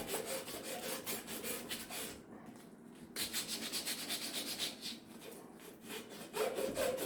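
Sandpaper made for pipes rubs back and forth over a pipe in steady, close strokes during a domestic hot water boiler coil job, with a short pause partway through.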